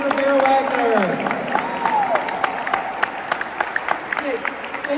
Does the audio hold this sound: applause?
yes